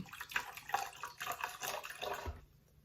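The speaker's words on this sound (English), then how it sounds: "Just gonna pour a little bit of that in there." Liquid pours into a bowl of homemade hair mask mixture, a short splashy trickle lasting a couple of seconds close up, fading to quiet at the end.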